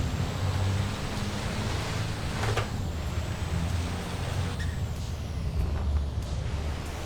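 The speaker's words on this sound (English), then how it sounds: "Little air brake noises and everything." A truck's air brake hisses in a racing video game on a long race circuit, a steady pneumatic rush over engine drone with a brief sharp release.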